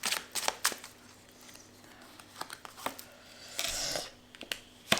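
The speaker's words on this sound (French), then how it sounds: "Alors, on va essayer de tirer une autre carte." A tarot card drawn from the deck gives several short, quiet papery flicks and shuffling rustles, with a longer soft swish near the end, heard up close with no talking.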